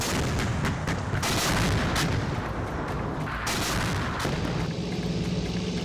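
K9 Vajra howitzers firing in a forward area of eastern Ladakh at high altitude, a dense run of loud booming blasts, several heavy reports in quick succession over a constant rumble, with no talking.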